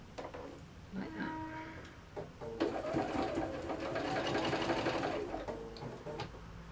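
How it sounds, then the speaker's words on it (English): Sewing machine top stitching a Hungarian square cushion front, a soft steady whirring run of stitches heard close up with faint background noise and a brief voice. "So we're just going to top stitch this"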